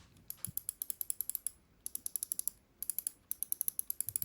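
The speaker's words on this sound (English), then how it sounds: "The left and right clicks are very light and smooth" Rapid series of crisp, light clicks from the buttons of a Finalmouse UltralightX computer mouse, close up, coming in quick bursts with short pauses between them.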